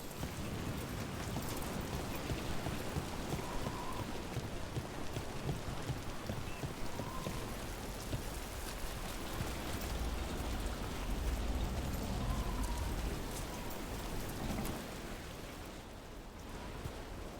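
Continuous rainfall in Dragon Age: The Veilguard patters steadily on surfaces, with a soft, even hiss throughout and faint low rumbles in the background; no voices.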